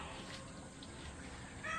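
Water is drawn for watering plants around a home garden: a quiet, steady flow from a tap or into a container that swells slightly louder at the very end. No clear talking is heard.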